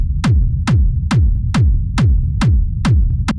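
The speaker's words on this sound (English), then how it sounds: "So this is a pretty standard rumble kick." Hard techno rumble kick drum in a 909 style, eight loud, booming kicks evenly spaced at a fast tempo, each a sharp click followed by a deep rumbling low tail, heard alone.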